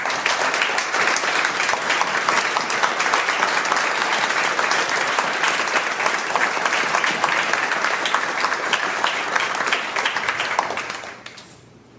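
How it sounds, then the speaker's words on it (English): Audience applause fills the room, dense and steady for about eleven seconds at a loud, even level before quickly tapering off at the end. "give them a round of applause for investing in"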